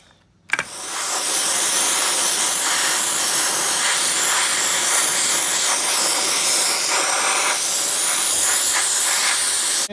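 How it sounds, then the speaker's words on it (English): A sandblaster strips old paint from a discarded cast iron park bench, bursting on with a sharp start and then holding a loud, continuous roaring hiss with slight fluctuations in grit spray. "Sandblasted it, got most of the big stuff paint-wise off."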